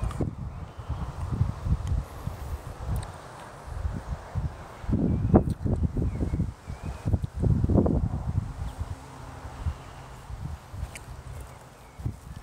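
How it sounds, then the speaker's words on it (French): Gusty wind buffets a microphone outdoors in uneven low rumbling bursts, loud and close, with quieter lulls between gusts. "il y a un peu de vent, donc du coup il y a un peu de bruit"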